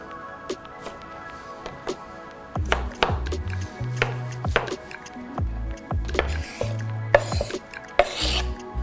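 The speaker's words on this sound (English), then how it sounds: "So now that the tomatoes are diced" Knife dicing tomatoes on a chopping board in a home-style kitchen, a run of quick, close, irregular chops and thunks in bursts with short pauses, loud and clear with no talk.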